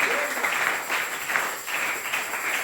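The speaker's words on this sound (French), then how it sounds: "Applaudissez le Seigneur Jésus." A church congregation applauds together in a steady patter of many hands clapping, fairly loud and close, sustained without a break for a couple of seconds.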